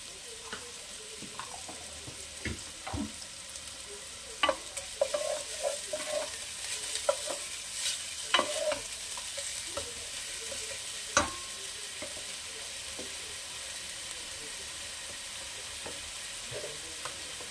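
Ginger-garlic paste frying in a pan for Bengali-style bhat pora capsicum, a steady soft sizzle broken by scattered clicks and scrapes of a spoon stirring, close and moderately quiet, with no talking.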